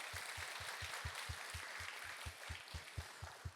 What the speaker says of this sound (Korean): 여러분 목자를 향해서 박수 한번 하겠습니다